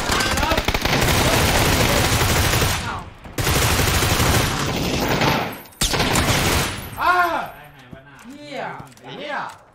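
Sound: gunfire in a video game

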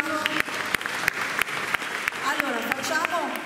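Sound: applause

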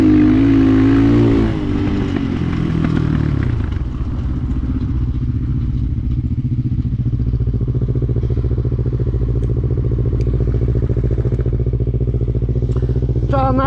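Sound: Alfa Rad motorcycle engine running, lacking power

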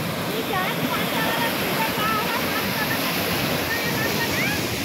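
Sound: water flowing in a canal

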